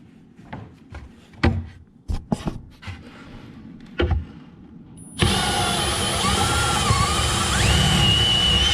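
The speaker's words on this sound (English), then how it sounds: "I'll put pressure down as I drill through." A power drill bores through wood while installing VADANIA VD2576 heavy duty drawer slides, preceded by a few separate knocks and handling thumps, then a loud, steady whine with shifting pitch that runs continuously to the end.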